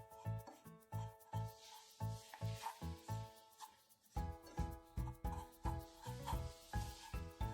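Banana and wheat flour mixture roasting in a pan while being stirred, a steady rhythm of repeated scraping strokes with a soft sizzle, close and fairly quiet, no voices.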